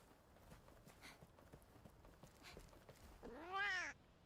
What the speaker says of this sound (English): This cat looks just like Mochi